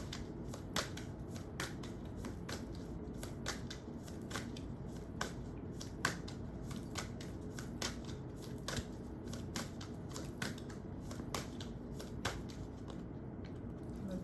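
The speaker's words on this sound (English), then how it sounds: "Another shuffle." Playing cards shuffled repeatedly during a tarot-style reading, crisp riffling clicks and snaps recurring steadily at close range over a low background hum, with no talking.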